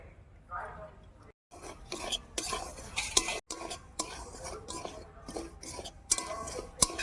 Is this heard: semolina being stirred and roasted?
yes